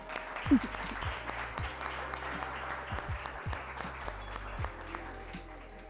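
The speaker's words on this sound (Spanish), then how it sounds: "Y merece un aplauso." An audience at a corporate talent and employment event applauds, with soft, fairly distant clapping spread through a room and a low steady hum underneath, no voices over it.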